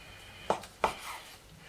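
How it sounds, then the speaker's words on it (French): A knife slices through cooked beef tongue on a board, making two quiet, distinct cuts with a faint knock against the surface. "donc nous allons trancher notre langue"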